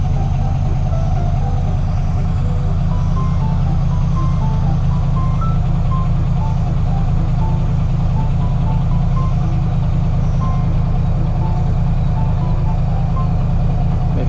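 A Hino or Isuzu FXZ360 truck engine idling loudly and steadily, a deep constant rumble with a faint melodic jingle drifting above it.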